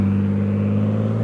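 A turbocharged BMW-engined Mazda MX-5 pulls away from a car show, its engine a steady, loud, close rumbling drone with no voices over it.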